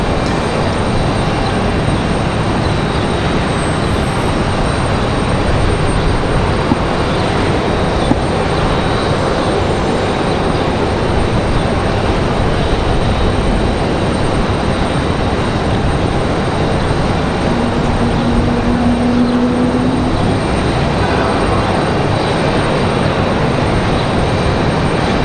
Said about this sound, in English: Here comes Air Canada. Again, this one from Montreal,